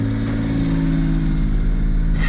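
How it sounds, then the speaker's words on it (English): A Suzuki Jimny engine runs at a steady fast idle around 2,000 rpm, a continuous close, loud drone with no break across the whole stretch. "Car's idling are much better now too"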